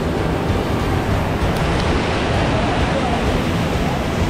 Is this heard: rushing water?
yes